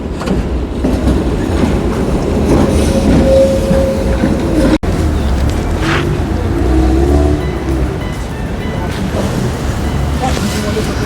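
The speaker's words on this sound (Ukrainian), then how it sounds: "Знов святковий трамвай?" A tram rumbles past close by at night in Dnipro, a steady low roar with faint clattering and a brief squeal, continuing over several seconds.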